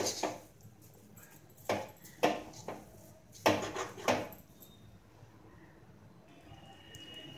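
A spoon stirring melting sugar syrup in a cooking pot for homemade Annavaram prasadam, giving several soft scraping knocks in an irregular rhythm before settling into a quiet background.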